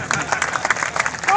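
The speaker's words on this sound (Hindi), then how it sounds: "तो ताली तो अच्छे से पीट दिया करो।" Audience at a Hindi-language political rally clapping, a dense burst of many hands in quick irregular rhythm, fairly loud and close, with crowd murmur mixed in.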